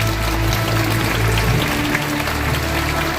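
Sustained applause from an audience at the Yongin Special City mayoral inauguration ceremony for Mayor Lee Sang-il, a steady, dense clapping wash that holds for the full stretch with a slight dip toward the end.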